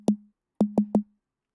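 A synthesized snare drum built in Reaktor Blocks, a tonal snap with a short rattle, struck once and then three times in quick succession, dry and close.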